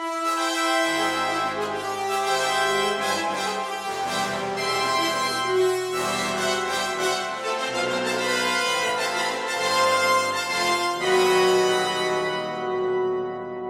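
A brass section from an orchestral sample library plays sustained, full chords that shift through a slow progression, loud and steady throughout with no talking.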